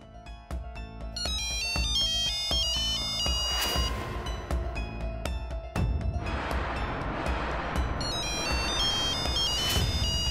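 A phone ringtone plays a bright, repeating electronic melody, loud and continuous for the whole stretch, with a fuller burst of tune partway through.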